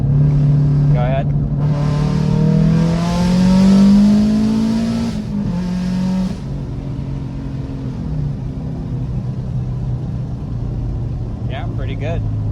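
A built turbocharged Subaru WRX running 27 psi on pump gas revs up through a pull, its engine note climbing steadily before falling away, with people talking over and after it.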